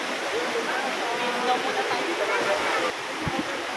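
Labasin waterfall pouring steadily as a broad, dense rush of water, close and continuous, with faint voices now and then underneath.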